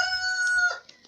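A rooster crows once, close and loud, with a sustained tonal call lasting under a second before it breaks off into a rough tail.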